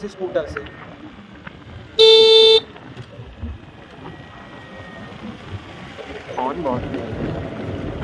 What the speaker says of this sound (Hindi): और आप इसके हॉर्न का भी साउंड सुन सकते हैं।